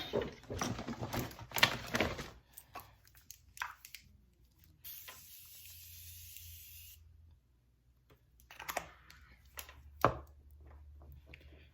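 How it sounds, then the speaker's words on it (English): A Morphe setting mist sprays once in a close, steady hiss lasting about two seconds, set among quieter taps and handling noises. "I like to set everything off with my Morphe setting mist"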